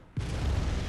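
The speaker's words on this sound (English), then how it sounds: "You'd have gotten caught in that explosion" A sudden explosion in the video game Bloodborne, a loud deep boom that breaks in and then rumbles steadily through the rest of the moment.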